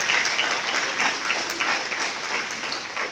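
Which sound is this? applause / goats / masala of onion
applause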